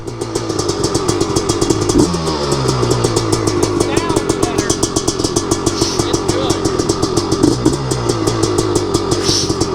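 A 250R engine idling on a cool morning at about 61 degrees, a rapid, rough, popping idle with a brief blip of revs, loud and close throughout.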